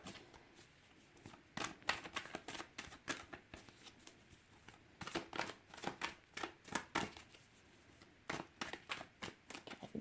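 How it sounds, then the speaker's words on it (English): A deck of cards is riffled and bridged again and again, in bursts of crisp flutters and taps, close and fairly quiet, with no talking. "after I'm done shuffling"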